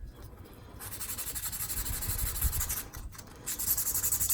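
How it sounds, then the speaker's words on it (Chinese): Sandpaper rubs oil-based paint off a model's flat surface in quick, rhythmic back-and-forth strokes, close and fairly loud, pausing briefly before resuming, with no talking. "那我这边就直接用砂纸就可以来进行这件事情"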